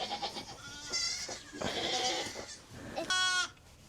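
A young goat kid at a herding family's homestead bleats loudly and close by, giving about three wavering, nasal calls spread across the moment with quiet gaps between them.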